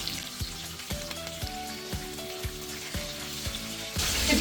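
Fish pieces frying in hot oil, a steady close sizzle and crackle with repeated soft clinks of a utensil turning the pieces to the second side, ending in a louder hiss, with no talk.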